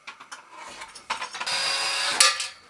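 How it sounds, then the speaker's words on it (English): A screwdriver backs out a ceiling fan mounting screw, giving a run of quick ratcheting clicks, then a denser, louder grinding stretch with a sharp final crack, close by. "I'm going to go ahead on each side and remove the screw that is in the standard hole"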